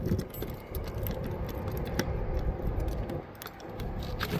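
A bunch of keys jingles and rattles continuously, close up, with a bright metallic clinking texture inside a 2026 Lacrosse 3411RK RV, steady for several seconds without speech.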